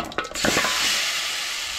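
A spoon stirs a Goan mango sasav mixture in a pan, with a few scraping knocks at the start followed by a steady soft sizzle, close and without talk.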